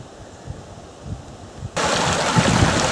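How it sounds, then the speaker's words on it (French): A small forest stream with a waterfall in the Creuse, a quiet low rush at first that swells into a louder, steady wash of falling water. "on vient d'arriver au ruisseau du Pic. Joli petit ruisseau sur lequel il y a une cascade."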